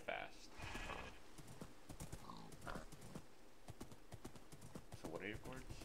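In the Minecraft video game, a horse's hooves clip-clop in a quick, steady rhythm, with sheep bleats and a whinny mixed in and a person talking over the top.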